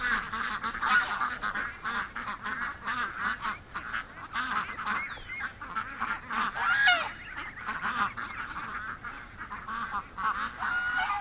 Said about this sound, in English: This is the way they act when a predator shows up. This is the quack.